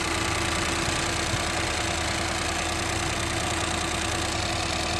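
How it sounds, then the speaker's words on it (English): A 2014 Ford Focus 1.6 EcoBoost engine idles steadily at slightly raised revs after a cold start, a constant low hum with faint mechanical ticking, close by and uninterrupted. "We just started the car from cold, so the revs are a little bit higher."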